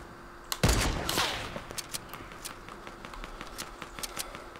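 Fortnite gunfire: one loud close burst of shots with a ringing tail, followed by a scattered string of fainter rapid cracks, with no one talking.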